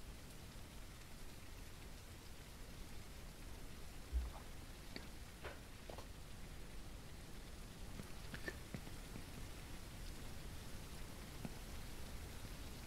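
Steady rain in the video game Ranch Simulator patters softly on surfaces, faint and continuous, with a few scattered droplet ticks and one dull thump.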